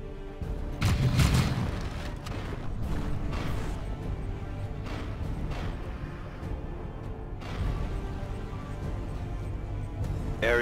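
Space marine squad gunfire in the video game Dawn of War 2 (Chaos Rising), a dense, loud, continuous barrage of shots and booms with a heavy burst near the start and no pauses.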